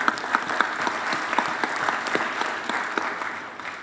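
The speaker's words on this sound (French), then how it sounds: "Je voudrais vraiment qu'on l'applaudisse." An audience at a formal ceremony in Senegal claps steadily, a dense even patter of many hands, moderately distant, fading slightly toward the end.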